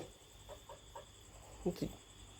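A young rooster gives a few short, soft clucks at close range, with people talking nearby.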